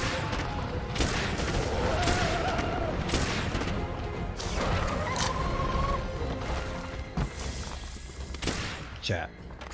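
Gunfire aimed at a monster in Monster Hunter World, repeated bursts of shots and crashing impacts running through the whole stretch, dense and loud with game effects layered beneath.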